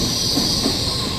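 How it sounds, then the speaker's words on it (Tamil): A Taiwan high-speed train rushes past at close range, giving a steady loud roar with high-pitched wheel hiss throughout. "தைவான் ஹை ஸ்பீட் ட்ரெயின் போயிட்டே இருக்குது"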